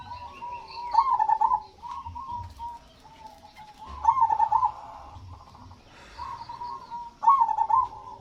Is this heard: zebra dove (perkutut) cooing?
yes